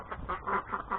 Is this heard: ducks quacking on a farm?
yes